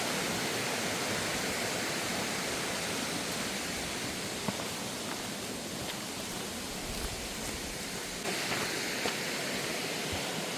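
Tyrshi Falls in Meghalaya pours in a constant, dense roar of rushing water, close and unbroken throughout, with no voices over it.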